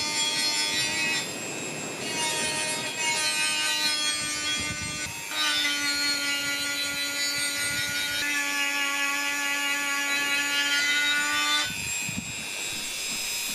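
A rubber abrasive tool rubs steel off an I-beam straightedge in long, steady strokes, producing a rasping scrape with a sustained metallic ringing tone that pauses briefly between passes, close up and without speech.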